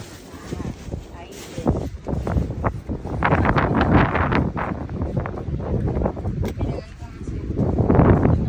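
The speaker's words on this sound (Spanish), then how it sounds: "con este viento que hace" Strong wind buffets the microphone outdoors by a campfire, with gusty roaring swells that build toward the end. Voices can be heard under the wind.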